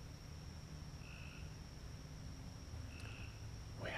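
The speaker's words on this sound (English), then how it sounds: "There's a frog over there." Frog croaking at night at a campground at Dillon State Park before a derecho, two short croaks at about one and three seconds heard at a distance over a steady insect-like background hum.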